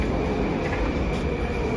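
A Moscow metro train rumbles with a loud, continuous roar and steady rail noise, heard from inside the carriage with no talking.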